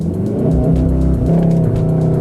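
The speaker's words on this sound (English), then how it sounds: "we are going to try out race start" A VW Golf R on Sepang Circuit sits on launch control for a race start, its engine held at a loud, steady high drone with a rising harmonic tone, close up.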